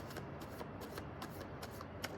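A deck of cards being shuffled close by while waiting to board a ferry, a series of quick riffling bursts repeating in an uneven rhythm, soft and alone without speech.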